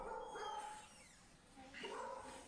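Dogs, one of them a pit bull, bark and whine in short yelping bursts, a couple of distinct calls at moderate distance, with a person talking faintly nearby.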